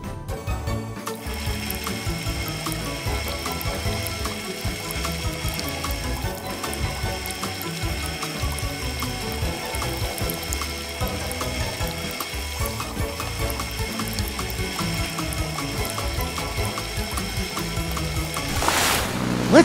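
LEGO motorized rescue boat churning through swimming pool water, a steady whirring gear-and-motor drone mixed with continuous splashing and sloshing, loud and close throughout.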